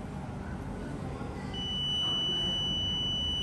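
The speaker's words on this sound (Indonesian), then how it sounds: "nyala dari buzzer." A patient alarm buzzer on an Arduino IoT embedded system switches on partway through, giving a steady, high-pitched electronic tone that holds loud and continuous over faint background hiss.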